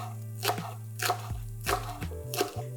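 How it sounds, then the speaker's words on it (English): A knife finely chops dill, parsley and green onion on a cutting board for shakshuka, five evenly spaced crisp chops about every half second, close and clear over faint background music, no voices. "So the last ingredients you want to cut is your dill, parsley, and green onion."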